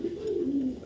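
A racing pigeon from a Sidoarjo loft gives a single soft, low coo, close by, lasting under a second.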